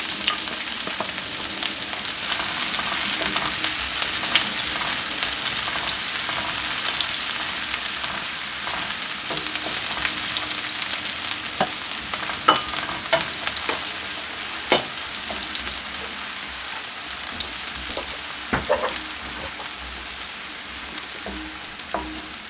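Onion, garlic and ginger sautéing in a pan give a loud, steady hiss of frying, broken throughout by sharp stirring clicks and scrapes, with no voices.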